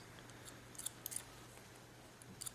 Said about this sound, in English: Pick them up. And cut them on the line